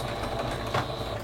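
A sewing machine runs a short continuous burst of stitching while making a backstitch on a fabric glasses case, a close, steady mechanical whirr and hum with no talking.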